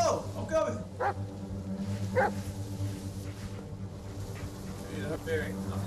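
A dog in the Blair Witch video game gives short, scattered barks and yips at mid distance over a steady low game ambience, while a player talks over much of it.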